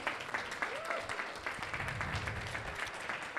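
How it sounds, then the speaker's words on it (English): Applause fills a live venue for a performer at a Sheffield comedy night, a steady, moderately loud wash of many hands clapping throughout, with faint crowd murmur. "Big round of applause"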